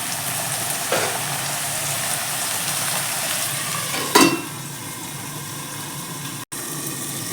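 Ginger garlic paste sautés in a pan with a steady hiss of frying, broken by an occasional clatter of stirring nearby, and no voices.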